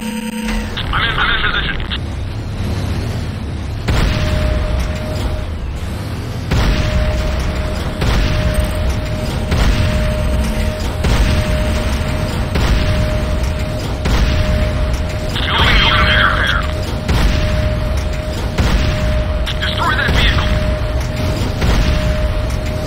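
Attack on the Advanced Guard Tower in the game Renegade: repeated deep booming blasts and bursts scattered across the stretch, mixed with a steady electronic tone and game effects.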